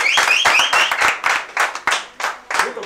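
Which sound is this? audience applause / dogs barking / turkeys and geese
audience applause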